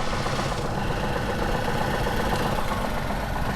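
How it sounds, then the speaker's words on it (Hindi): A Tata car's petrol engine idles steadily after starting, a constant close mechanical hum and rumble with a faint rattle, loud and unbroken with no talk. "ये रहा इसका इंजन नॉइस।"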